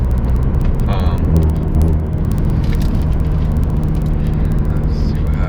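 A catless Dodge Dart 1.4T idles with its catalytic converter removed, giving a loud, steady, close engine drone and rumble that holds evenly throughout.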